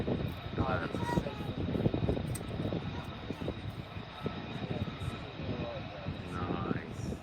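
F-35 fighter jets fly over at an RAF airbase, a broad distant jet rumble rising and fading through the clip while people talk excitedly nearby.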